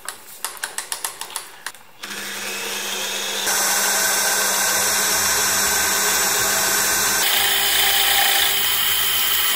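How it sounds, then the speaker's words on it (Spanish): A lathe drills a hole with an 8 mm bit, starting with a few quick ratcheting clicks before the motor spins up into a steady, loud mechanical whir that grows denser midway and holds until the end. "Así bloqueado ya podemos proceder a taladrar el agujero."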